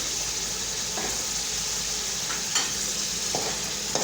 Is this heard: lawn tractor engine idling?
no